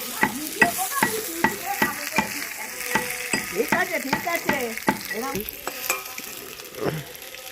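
Potatoes fry in a pan, a close sizzle broken by repeated scraping strokes as they are stirred at a steady, regular rhythm, with no talking.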